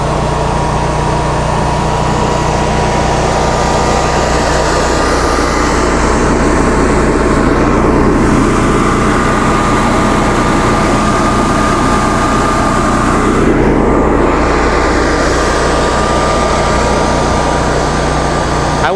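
A 2015 Cummins home standby generator running under a heavy 15 kW load gives a loud, steady, droning engine roar with a constant hum, close and unbroken for the full length, with no talking.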